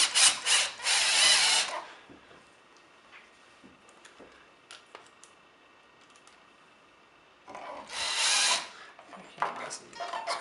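Power driver running switch screws back into an electrical box while installing a dimmer switch, two loud whirring bursts at the start and end with quieter handling noises between.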